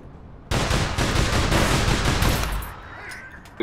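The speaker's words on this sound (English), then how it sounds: "Gunfire at the door." Sustained burst of automatic gunfire at a doorway in the video game APB Reloaded, loud rapid shots for about two seconds, then fading into quieter tail sounds.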